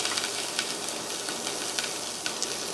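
Chopped onions frying in olive oil in a 2-quart saucepan over medium heat, a steady soft sizzle with faint crackles and the occasional light scrape of stirring.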